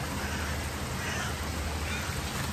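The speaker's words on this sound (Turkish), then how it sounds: "Kargalardan da ne diyeceğim onu duyuyorum ben. Kok kok bağırıyorlar ya." Crows cawing in a wooded park near a stream, faint calls mixed into a constant wash of rushing water noise.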